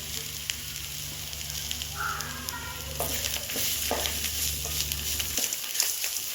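Drumstick leaves sautéing in a pan with salt, giving a steady low sizzle with soft stirring scrapes, fairly quiet and without talk.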